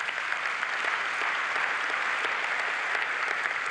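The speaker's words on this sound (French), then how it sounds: "Et je pense qu'on peut les applaudir." Conference audience applauding a team during an ArcGIS plenary session, a sustained, even roar of many people clapping that stays level from start to finish, with no talking on top.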